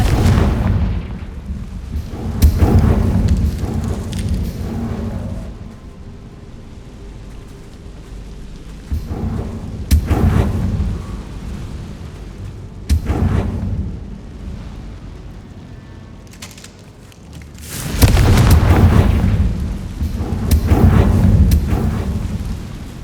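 Several deep booming blasts from the Confringo fire spell in Hogwarts Legacy, spaced a few seconds apart over a continuous rumbling background, with the last explosion loudest and longest.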